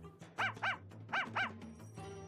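A puppy in the video game Ace Attorney: Spirit of Justice gives four bright, yappy barks in two quick pairs, close and clear over a low, quiet game backdrop.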